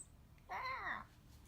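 A person's voice imitates a fierce cat with a single close, rising and falling meow-like snarl of about half a second in a quiet room.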